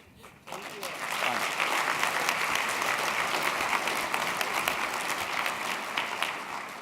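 An audience at an annual meeting bursts into applause, a dense, sustained clatter of many hands that rises quickly and holds steady for several seconds, moderately close.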